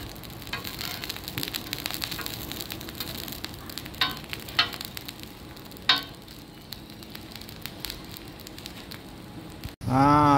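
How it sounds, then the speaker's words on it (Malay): Eggplant roasts in a large wok, giving a steady faint sizzle and crackle with scattered sharp pops, then a sudden louder clatter right at the end. "Terung bakar ni kita bakar gini lah, mudah. Kalau kita ada kuali besar kan."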